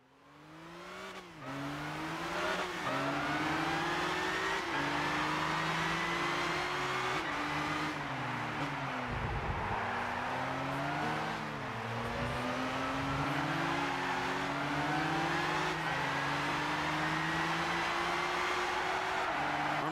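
Race cars in the Gran Turismo 6 video game at a tournament event, several engines revving and shifting through gears with rising and falling pitch, loud and continuous, with an occasional tire squeal.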